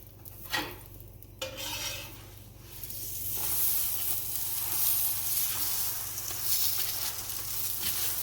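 Paratha roti sizzling on a hot griddle in a home kitchen, a steady broadband hiss with a couple of sharper scraping touches early on, close and continuous throughout.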